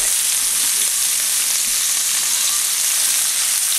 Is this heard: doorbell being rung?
no